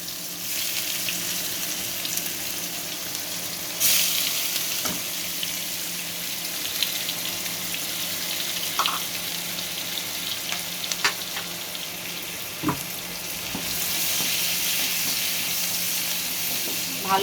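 Chopped onions and whole cumin seeds fry in hot oil with a steady, broad sizzle, broken by a few soft stirring clinks and scrapes, close and continuous, with no voices.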